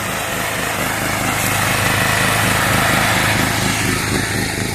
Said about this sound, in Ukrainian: Работає генератор.